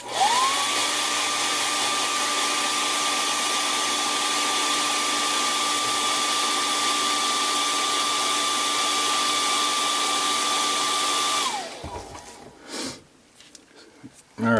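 A heat gun or hair dryer heat-setting airbrushed paint on a fishing lure, a loud, steady whine-and-blow held for about eleven seconds before cutting off, followed by faint handling noise.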